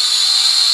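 A cheap toy drone hovers right in front of the face, giving a loud, steady high-pitched motor and propeller whine that holds unbroken for under a second.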